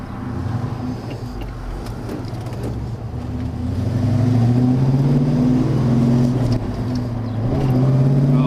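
A numbers-matching 1973 Plymouth Cuda with a 340 cubic inch V8, heard while driving: a steady low rumble whose pitch climbs and eases as the engine pulls through the gears, moderately loud and with no voices.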